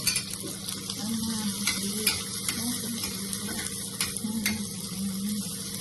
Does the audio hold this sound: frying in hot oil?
yes